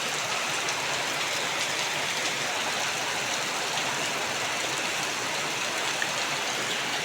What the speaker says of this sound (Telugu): భయంకరమైనటువంటి వర్షం అసలు ఎక్కడ కూడా ఆగట్లేదు